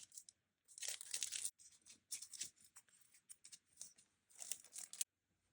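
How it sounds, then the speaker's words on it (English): Scissors cut and tear through a mail package in several close, crisp bursts of snipping and crinkling paper or plastic, separated by short pauses, with no talking. "just had to use my scissors"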